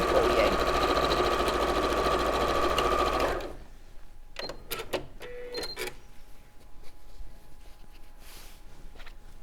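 Sewing machine stitches fabric pieces for a Halloween wreath, a rapid loud mechanical whirr for a few seconds that stops abruptly, followed by quieter clicks, taps and handling noises.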